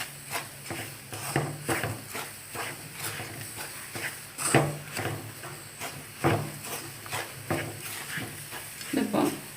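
Roasted semolina and sugar get stirred in a pan for rava laddu, a spoon scraping in a quick, steady rhythm with repeated knocks against the metal, close and fairly loud.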